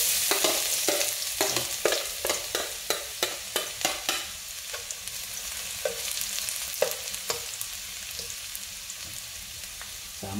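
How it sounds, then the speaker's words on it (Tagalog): Garlic sautéing in hot cooking oil, a continuous sizzle punctuated by a rapid series of sharp spatula scrapes and clacks against the pan, slowing to sparser hits later. "So ayan na po at mainit na po ang ating mantika. Umpisa na po natin maggisa ng bawang."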